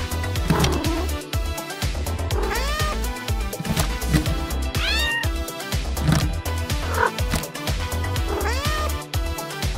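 A cat meows repeatedly, loud and close, in a run of drawn-out rising and falling cries over a busy background, several calls spaced across the stretch.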